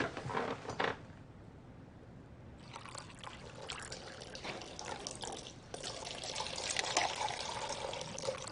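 Cold water is poured into a glass with a continuous trickling splash that swells gradually louder, close by and without talk.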